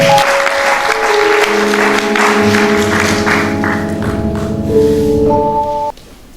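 A church congregation applauding as a bishop is welcomed: dense, steady clapping under held organ or keyboard chords, cutting off abruptly near the end.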